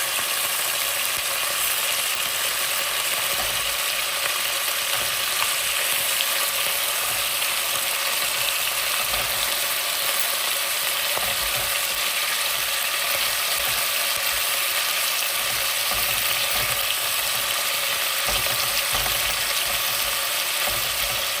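Chicken pieces for menudo sizzle in a pan, a dense, even, continuous hiss of frying fat with faint crackling, steady and close, with no voices over it.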